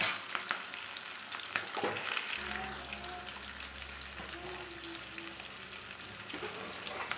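Pieces of chicken sizzle in hot oil for homemade KFC-style fried chicken, a bubbling crackle that swells as the pieces go in, with occasional clinks and a low hum underneath, close up.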